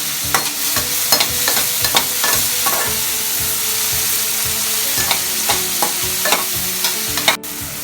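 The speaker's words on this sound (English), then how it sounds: "Now saute this mixture for 5 minutes." Green chili and tomato mixture sautéing in a pan for pav bhaji, a steady close sizzle and fry broken by repeated sharp clinks and scrapes of a stirring spoon, with no talking.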